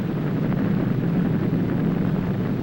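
A deep, steady rumble from a nuclear explosion rolls on without pause, dense and loud, filling the whole stretch with no voices over it.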